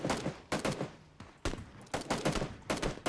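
Rapid volleys of gunfire in the video game PUBG Battlegrounds, during a motorcycle chase, come in several sharp, loud bursts spread across a few seconds, with short gaps between them and no talking.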